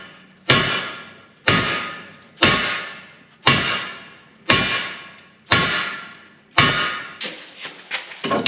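A heavy sledgehammer strikes steel parts on a 2002 Yukon XL, landing about once a second in seven loud, sharp metallic blows, then a few lighter, quicker knocks at the end, with no talk.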